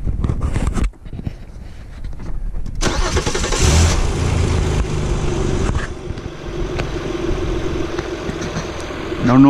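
A 3.0 liter Saturn L300 engine with its accessory belt removed cranks briefly and catches, then settles into a steady, loud idle close by with a slight rise in revs at the end.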